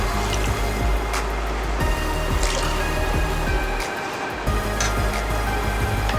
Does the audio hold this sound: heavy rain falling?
no